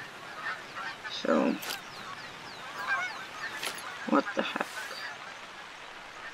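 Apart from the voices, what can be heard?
geese honking in a video game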